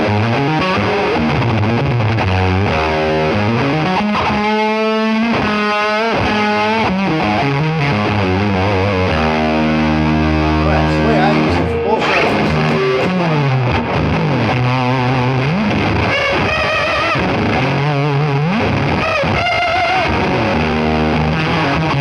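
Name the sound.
electric guitar through Band of Gypsys fuzz pedal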